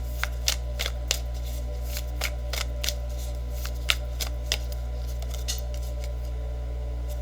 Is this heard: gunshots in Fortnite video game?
no